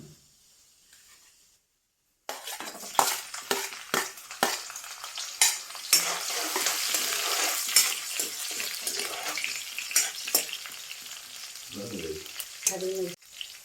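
Cumin seeds hit hot oil in a kadai, bursting into a loud, steady sizzle with crackles and stirring scrapes that lasts several seconds, then fades to quieter spatters.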